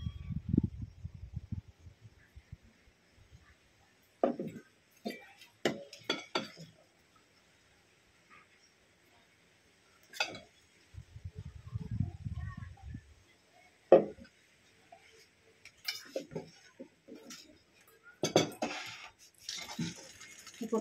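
A spoon scoops food into three bowls, giving scattered soft scrapes and light clinks of metal on dishware, separated by quiet pauses and with a few low murmurs in between.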